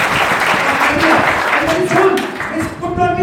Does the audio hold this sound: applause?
yes